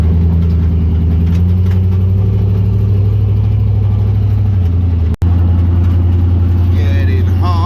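A Jeep CJ with a 1-ton LS engine swap running loud and close, a deep steady rumble with a brief cut near the end before it carries on.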